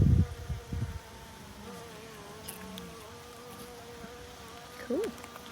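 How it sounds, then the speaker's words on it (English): Honeybees buzz steadily around a queen bee cage with a sugar candy plug, a soft continuous drone close by. A few louder rustling knocks come at the start and near the end. "Yep, more bees gathered around now, trying to eat that sugar capping."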